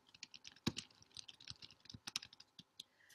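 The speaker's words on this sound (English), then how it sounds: "So I'll type that over here too." Rapid, uneven typing on a computer keyboard, with close crisp keystrokes and a few heavier key hits across several seconds in a quiet room.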